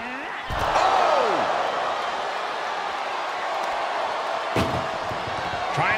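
An ambulance door slams shut twice in an ambulance match, two sharp, loud bangs separated by a few seconds over steady crowd noise.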